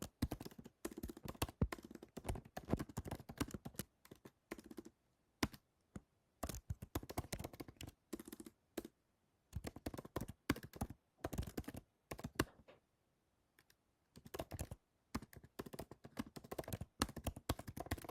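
Keys clatter on a computer keyboard in quick, uneven bursts of close, crisp taps, separated by short pauses, with no talking.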